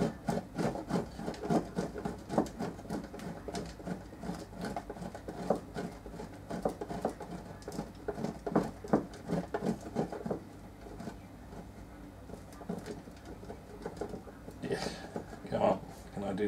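Cheese rind scrapes against a grater in quick rhythmic strokes while a toasted sandwich is being prepared, a close, rasping rub that continues steadily. Someone talks over it.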